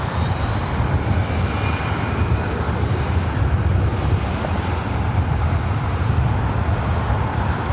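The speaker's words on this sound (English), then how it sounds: "Flight heading to Portland, this A319." An Airbus A319 airliner at LAX bound for Portland gives a continuous loud, wind-like jet roar, steady and broadband from start to finish, with no talk over it.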